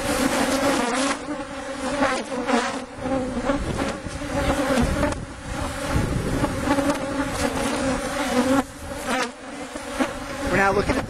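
Honey bees buzzing around an open hive during an inspection, a dense, steady, close swarm drone that carries on without a break for the whole stretch.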